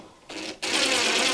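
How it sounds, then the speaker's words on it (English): A power drill used while mounting a plate on drywall, spinning up briefly, pausing for an instant, then running steadily at a loud, close whir. "To make it easy, take your drill,"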